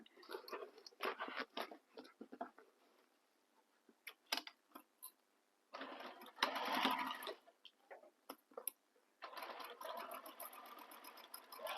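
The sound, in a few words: sewing machine stitching across bag top edge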